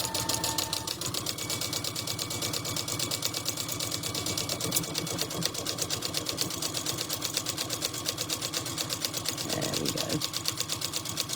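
Domestic sewing machine stitching a buttonhole and binding at an even rapid rhythm, close and steady throughout, with a brief spoken remark over it.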